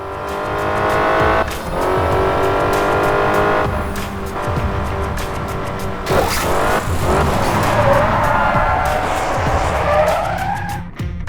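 In the video game Crash Time 5, a car brakes hard with loud, prolonged tire squeals and skidding over a continuous engine roar, the screeching repeating in several sharp bursts.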